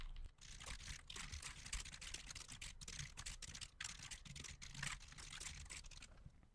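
Code being typed on a computer keyboard, a rapid, dense patter of key clicks in close bursts with brief gaps, steady and fairly quiet, with no talking.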